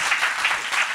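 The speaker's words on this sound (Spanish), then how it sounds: "Un aplauso." A short burst of audience applause at a presentation on the Chancay multipurpose port, a steady wash of many hands clapping at once, fairly close and with no talking over it.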